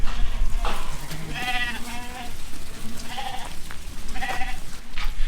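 Lambs bleating on a farm, several wavering, close-up bleats in quick succession, including a small runt lamb, over outdoor background noise.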